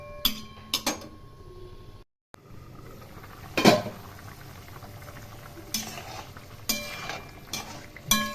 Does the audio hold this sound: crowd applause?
no